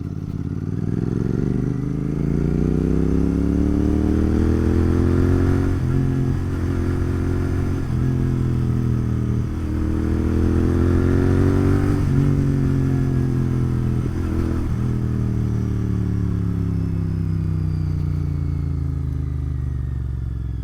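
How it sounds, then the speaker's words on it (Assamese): A Royal Enfield GT 650 motorcycle cruising on a night ride, its engine droning steadily with smooth rises and falls in pitch as the rider shifts and accelerates, continuous and close with no talk. "এটা কথা মানিব লাগিব ৰয়েল এনফিল্ডে কিন্তু এখন বৰ মজা বাইক উলিয়ালে"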